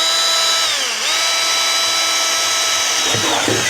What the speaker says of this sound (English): it don't hurt nothing to drill them out a little bit bigger